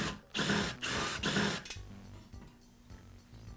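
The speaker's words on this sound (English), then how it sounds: "In the case of my starter, I'll remove the screws that are holding it in place." Screws are backed out of a Briggs & Stratton lawnmower recoil starter, with three quick whirring bursts of a driver close by, followed by softer mechanical clicks and rattles as the parts loosen.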